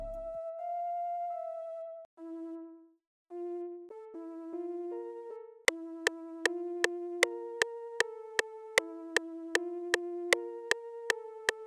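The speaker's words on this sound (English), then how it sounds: "I'm just starting off with like this little flute type of sound" Flute-like synth patch from Analog Lab playing a short repetitive melodic line of clean, pure tones, first as sustained notes, then as crisp plucked repeats over a steady pulse, quiet and without voices.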